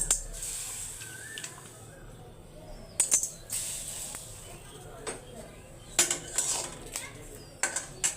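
Dry chillies roasting in a pan with no oil: scattered metallic clinks and scrapes of a spatula against the pan, some in quick clusters, over a low kitchen background.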